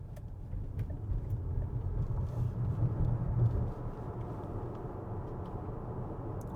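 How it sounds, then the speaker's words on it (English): A Deepal S07 electric car accelerating, heard from inside as a steady low road and motor rumble that swells slightly midway and then holds level, with no talking. "So what's the acceleration like from the S07?"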